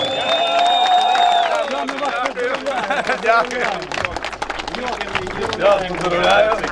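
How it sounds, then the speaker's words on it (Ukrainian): A crowd at a charity drag racing award ceremony claps and cheers, a busy, loud wash of applause with voices and an announcer speaking over it. "Будь ласка, всі оплески,"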